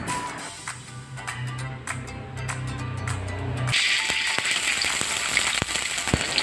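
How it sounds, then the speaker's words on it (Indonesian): Ground spice paste sautéing in hot oil for a fried patin fish dish, a steady bright sizzle with crackling pops that grows louder and more intense partway through as ingredients hit the pan. "Kita tumis bumbu halusnya terlebih dahulu ya"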